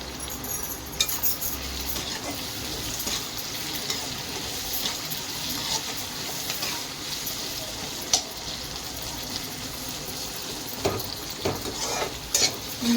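Sliced onions fry with turmeric and salt in a pan for a chicken gravy, sizzling steadily throughout with occasional stirring scrapes and clinks of a spoon, close and continuous with no talk.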